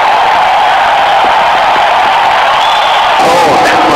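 A simulated cricket stadium crowd in Real Cricket 2018 cheers in a loud, constant roar that fills the whole stretch, swelling slightly near the end.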